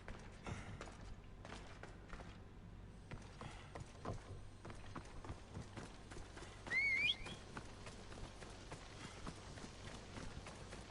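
A horse gallops in Assassin's Creed Odyssey, quiet rhythmic hoofbeats running steadily beside faint game ambience, with a brief whistle-like chirp partway through.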